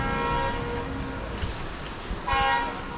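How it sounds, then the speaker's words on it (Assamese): Kamrup Express train rumbles heavily at close range with a steady low roar, and a short horn-like tone rises briefly near the end. "চ' এইফালে ট্ৰেইন যাবলৈ লৈছে।"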